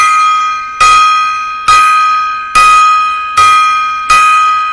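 A gong rings out five times, struck at a steady, even interval; each loud, bright metallic hit decays slowly before the next, with no voices.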